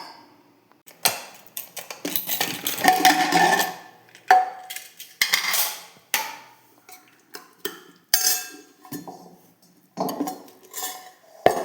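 Cooked tapioca and yam are scooped into a cheenachatti pan, giving a series of clinks, scrapes and taps of a utensil against the metal pan, close up and irregular, with no talking.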